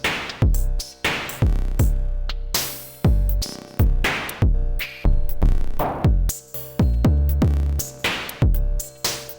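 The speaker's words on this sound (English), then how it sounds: "this is my custom kit for the circuit with the analog drum sounds" A custom lo-fi analog drum kit on a Novation Circuit plays with its pitch switched: punchy, booming kicks and clicky hits in a steady looping groove, close and loud, with some pitch-dropped tails and no voices.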